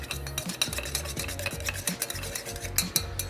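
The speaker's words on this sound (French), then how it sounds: "Venir brasser le tout" Cloudberry purée with a splash of lime juice being stirred in a bowl, a steady rhythm of soft scraping and clinks from a spoon repeating up close, with no talk.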